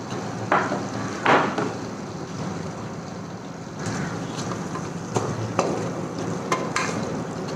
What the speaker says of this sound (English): in a pan we are just sauteing some butter. So that we're gonna add some garlic and onion